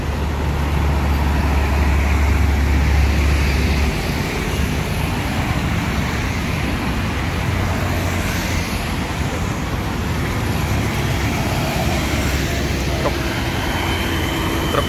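Heavy traffic rumbles steadily on a busy highway toward Palembang, with large trucks passing close by in a continuous loud low drone throughout, and no talking.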